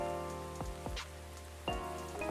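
Gentle rain patters outside in the Coffee Talk café game, a quiet continuous wash with scattered soft drip sounds layered over a calm sustained music bed, no one talking.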